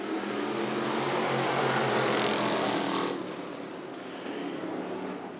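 Speedway race cars pulling away at a race start, a broad engine roar that builds loud for about three seconds, then drops somewhat and carries on.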